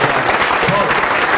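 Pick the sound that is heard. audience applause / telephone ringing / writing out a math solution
audience applause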